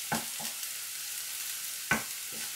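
Eggplant and bell pepper cooking in a pan on medium heat, a soft steady sizzle with a few brief utensil scrapes and taps, quiet and close.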